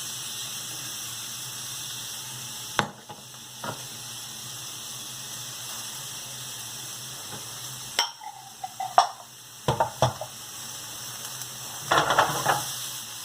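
Broccoli and peppers sizzle in a pan with a steady, soft frying hiss, broken by a few sharp clatters and stirring knocks that cluster toward the end; no one speaks.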